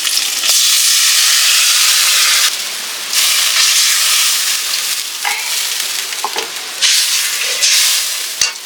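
Water poured into a hot pan of garlic and green chili bursts into a loud, hissing sizzle. The hiss swells, dips, flares again and then settles into uneven crackling with a few clinks near the end.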